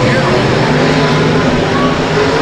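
USRA stock cars race around the dirt oval at Rapid Speedway in a heat race, a steady loud roar of engines filling the air beneath a track announcer talking throughout.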